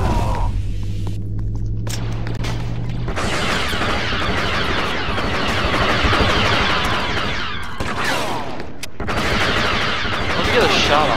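Grenade blasts and gunfire erupt in a Star Wars Battlefront match on the Korriban map, a dense roar of explosions and shots that starts after a quieter opening tone and carries on with a brief lull near the end.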